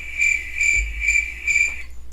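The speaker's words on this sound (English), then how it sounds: "Crickets" Crickets chirp in four evenly spaced, rhythmic trills, a clear high-pitched insect pulse standing alone against a quiet low hum.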